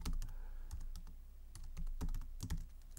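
Rapid, close clicking on a computer keyboard while Python turtle graphics code is typed: quick runs of keystrokes with brief gaps, fairly quiet and heard alone without speech.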